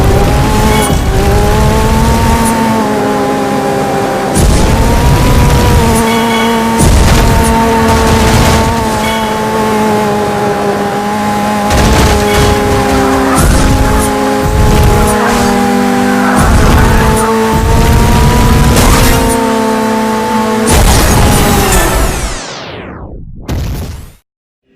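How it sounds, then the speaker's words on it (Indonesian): Burnout 3 racing on PlayStation 2, a loud, continuous game engine roar that rises and falls in pitch as gears shift, with tire screeches and sharp impact bursts, and the sound fading away at the end. "Pada game ini, pemain akan merasakan balapan yang intensif dan tabrakan yang epic."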